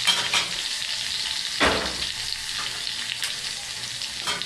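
Four garlic cloves sizzling in hot oil for Egyptian koshari, a loud close crackling fry with a few sharper stirring clicks, no voices.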